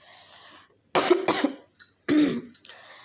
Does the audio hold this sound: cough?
yes